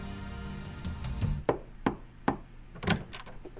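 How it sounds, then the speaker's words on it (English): A door in an animated drama is knocked several times, a few sharp wooden raps spaced apart, after a brief rustling sound at the start, fairly close and clear with no talking. "I hear a knock, and then the door opens."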